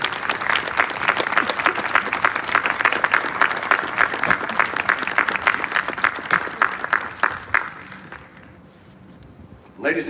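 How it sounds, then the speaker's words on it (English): A crowd at a military college honors parade applauds an honored colonel, sustained rhythmic clapping that stays strong for about eight seconds, then thins out and fades to a quiet murmur. "Will you please give a round of applause to Colonel Tom Torrance"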